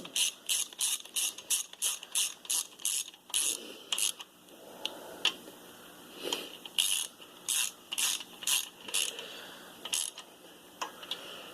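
Ratchet snugging down the crankshaft main cap bolts on a Chevy 350 engine, a run of quick repeated clicking strokes in bursts with short pauses between, close up with no talk.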